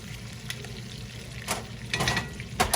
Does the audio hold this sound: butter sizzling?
yes